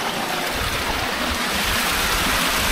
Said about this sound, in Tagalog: napakalakas din ang tubig oh